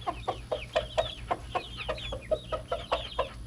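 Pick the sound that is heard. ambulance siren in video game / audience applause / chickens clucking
chickens clucking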